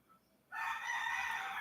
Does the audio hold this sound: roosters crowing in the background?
yes